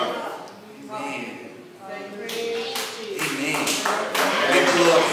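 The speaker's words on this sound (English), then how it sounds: "Give the Lord a hand clap of praise for that." Church congregation clapping hands in praise during a sermon, a loose, building patter of claps rising in loudness toward the end, mixed with voices and murmuring in the room.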